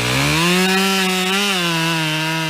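A Husqvarna chainsaw revving steadily as it cuts wood, loud and close with a slight pitch rise and dip mid-cut.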